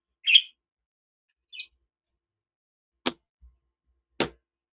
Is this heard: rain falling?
no